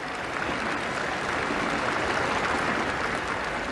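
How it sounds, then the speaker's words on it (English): Crowd of mourners applauding outside a royal funeral in 2002 as the Queen is driven away; a dense, steady wash of distant clapping throughout, with no voices standing out. "the applause that had so marked Diana's funeral rang out"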